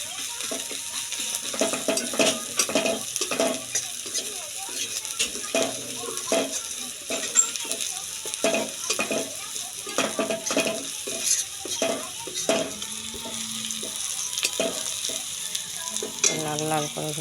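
Fish frying in a pan gives a steady, close sizzle, broken throughout by a busy rhythm of stirring, scraping and light utensil clatter against the pan; nobody talks.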